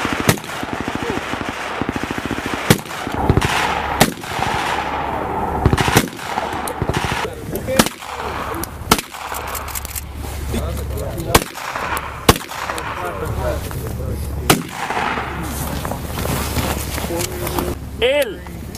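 Rifle target shooting outdoors in cold weather in Norway: sharp, loud single gunshots crack at irregular intervals of a few seconds while people talk throughout.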